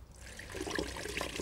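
Dirty car wash water poured out of a bucket splashes and gurgles onto the ground, a close, continuous spill of liquid that builds slightly over its short duration.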